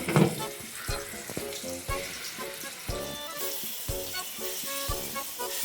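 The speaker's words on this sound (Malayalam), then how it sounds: "അമ്മ കൊഞ്ച് പൊരിക്കാൻ ഇടുവാണ്" Prawns crackle and sizzle in hot oil, a steady close frying hiss with intermittent sharper pops and stirring clatter.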